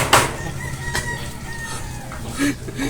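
Chicken clucking and crowing at close range, a few sharp calls over a steady background, with faint talk underneath.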